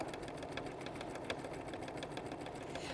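A sewing machine stitching half square triangle quilt blocks, a continuous fast mechanical whir with rapid needle ticking, steady and close throughout.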